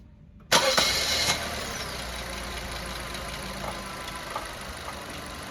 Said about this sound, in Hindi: अब हम गाड़ी को स्टार्ट करेंगे